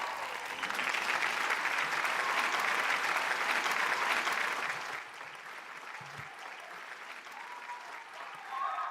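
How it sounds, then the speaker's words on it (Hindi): An audience at an event welcoming the Indian cricket fast bowler Akash Deep breaks into loud, sustained applause for about five seconds, then the clapping fades to a softer patter with murmurs. "जोरदार तालियों से स्वागत कीजिए टीम इंडिया के बॉलर आकाशदीप।"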